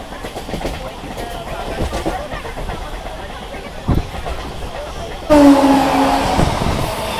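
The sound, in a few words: local train departing Bagnan railway station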